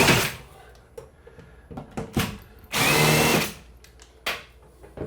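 Power drill driving a screw into a wall stud, heard as short bursts with one longer loud run near the middle, close by with no talk.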